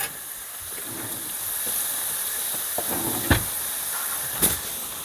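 Butter sizzling in a hot dry pan with no oil, a steady soft hiss throughout with a couple of brief louder crackles near the end, no talking.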